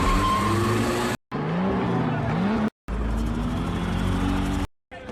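Street race cars roar flat out with nitro boosts in a film race scene, loud engine wails rising in pitch through three bursts split by brief silent cuts.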